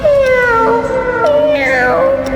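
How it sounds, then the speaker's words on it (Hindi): A cat meows in a long, wavering cry that slides in pitch, followed by a second rising-and-falling meow, close and loud. "भाई बिल्ली वो फिर आ गई"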